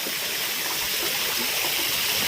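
Water swirls and gushes steadily in a fountain spa pool, a loud, continuous broadband rush with no pauses, close and alone throughout.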